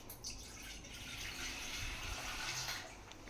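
Water poured into a tub, a soft, steady gushing wash heard faintly throughout with no voices.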